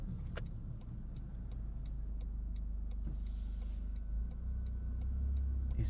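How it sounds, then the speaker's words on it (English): Turn signal in a 2023 Toyota GR Corolla ticking in a steady, even rhythm inside a quiet cabin, with a low engine hum underneath and no talking. "Turn signal sound."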